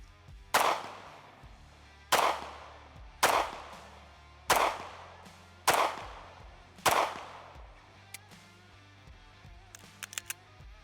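Six sharp pistol shots from a Bul Armory Tac Pro 2011, fired left-handed, ring out at a steady pace roughly a second apart, each with a short decaying echo, followed by a few faint clicks.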